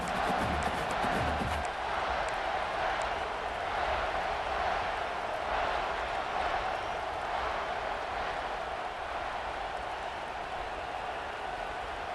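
Steady roar of a stadium crowd during a college football game in EA Sports College Football 26, a continuous dense wash of cheering voices that holds loud and even throughout with no individual voices standing out.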